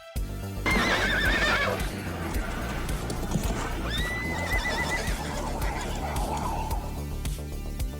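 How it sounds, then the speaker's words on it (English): Horse neighing in a film scene, galloping down a forest road; two clear whinnies ring out over a loud, busy bed of hoofbeats and orchestral score. "this horse gallops down this road through this forest"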